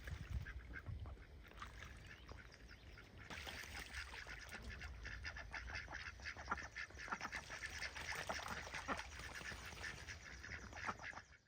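Hen ducks or geese on the water give faint, scattered quacks and honks against a soft outdoor background, heard from some distance with no talking.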